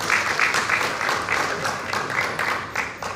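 A crowd claps in steady waves at an award ceremony honouring jatra folk theatre artists, a dense close applause that swells and eases several times.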